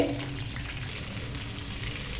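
Eggplant bajji frying in hot oil over a medium flame, giving a steady, close, continuous sizzle with no talking.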